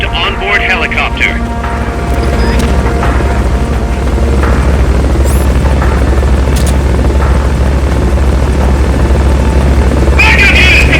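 A helicopter in the video game Metal Gear Solid: Peace Walker roars with a loud, steady low rotor drone throughout, while game voices talk over it and brief mechanical clicks come and go.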